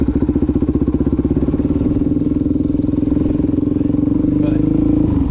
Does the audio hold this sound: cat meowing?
no